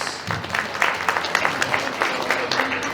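A wedding reception crowd applauds the bride's father, with individual claps audible in a lively, uneven patter that rises and falls slightly under a murmur of room noise.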